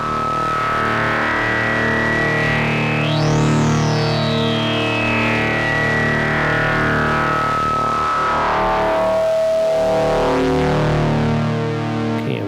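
Wavefolded harmonic tone from an Instruō Saïch synth module run through effects, a dense buzzing drone whose bright overtones sweep upward and fall back, with echo-like feedback shimmer drifting in and out, steady and loud with no talking.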